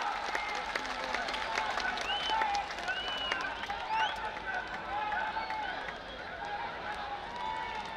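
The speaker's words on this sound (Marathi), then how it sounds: "दोघांसाठी टाळ्या" Crowd applause at a Maharashtra Kesari wrestling bout between Sikandar Shaikh and Prithviraj Mohol, a fairly distant steady patter of clapping under an announcer's voice calling over a public address system.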